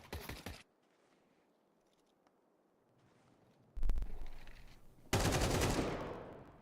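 Counter-Strike gunfire from a Mac 10 and an AK comes in loud, rapid automatic bursts at the start and again near the end, broken by a quiet stretch with faint distant shots. No one talks.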